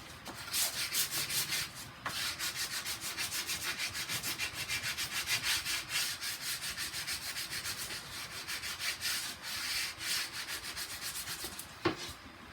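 Rhythmic back-and-forth rubbing of a sanding block on wood edge banding, steady strokes repeating close up for the whole stretch, with a sharp knock near the end.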